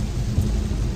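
Heavy rain during a Houston thunderstorm, a loud, steady downpour with deep rumbling thunder beneath it and no talking.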